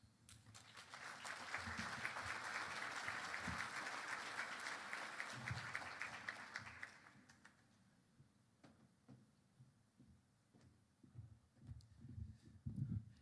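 Steady audience applause fills a banquet hall during an 80th annual Chamber of Commerce celebration, lasting several seconds before fading, with low murmuring talk continuing afterward.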